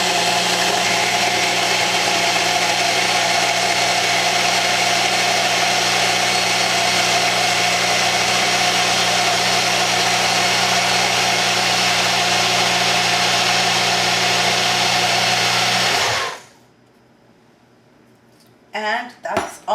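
A Nutribullet blender runs in one steady, loud whirring drone with a low motor hum and no talking over it, then cuts off sharply, followed by a few faint handling clicks.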